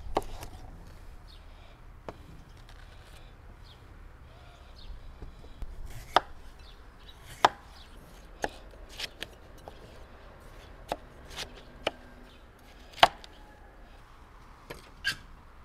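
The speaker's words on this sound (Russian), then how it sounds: "И мелко-мелко нарезаем туда арбуз." A knife finely chopping watermelon into a bowl, making sparse, sharp clicks and taps against a quiet background, irregularly spaced and close by.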